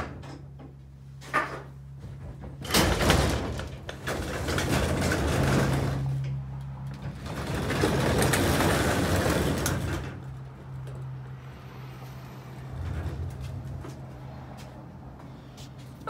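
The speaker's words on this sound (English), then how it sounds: "I'll just open the garage door and I'll start it up for y'all." A home garage door being opened before starting a 1969 Ford 120 tractor, with two long rumbling, rolling sweeps of several seconds each over a steady low hum, no talk.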